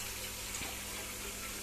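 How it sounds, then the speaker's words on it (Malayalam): Water pours steadily into a guppy tank during refilling, a constant broad rushing hiss at moderate level with no pauses. "കണ്ടില്ലേ, നമ്മൾ വെള്ളം റീഫിൽ ചെയ്യുകയാണ്."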